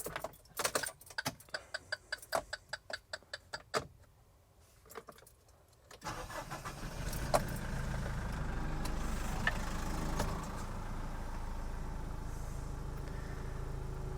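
Keys jangle and click for several seconds, then the 3-liter turbo diesel of a Mitsubishi Fuso Earthcruiser overland truck cranks to life and settles into a steady, rumbling idle.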